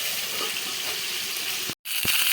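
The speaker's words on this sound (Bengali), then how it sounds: "আমি মাছের মাথা ভাজা হয়ে গেছে" Fish heads fry in hot oil in a pan for a cabbage-and-fish-head dish, giving a steady, close, dense sizzle and crackle throughout, broken by a brief silent cut near the end before the sizzling resumes. No one speaks.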